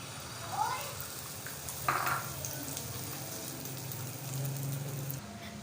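Egg mixture sizzling in a little oil in a pan, a steady soft frying hiss with a couple of brief clinks from utensils, heard under a speaking voice.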